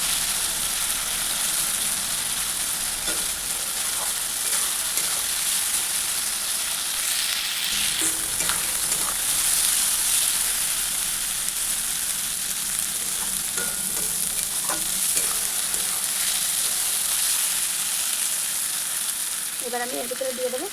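Spice masala fries in hot oil with a continuous loud sizzle, broken by intermittent scraping stirs of a spoon against the pan, heard up close with no talking.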